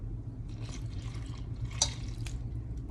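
Water is added to bread dough for a sandwich loaf, coming through as faint, intermittent dripping and trickling over a steady low hum, with a brief brighter splash near the middle.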